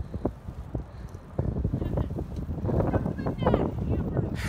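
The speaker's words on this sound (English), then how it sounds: "It's windy." Wind gusts buffet the microphone in rough, rumbling bursts, growing stronger, while people talk underneath.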